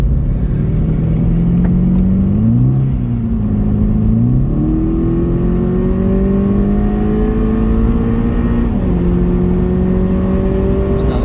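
A Volkswagen Polo 6R GTI accelerates hard from inside the cabin, its engine droning loud and steady as the pitch climbs through several gears with brief dips at each shift.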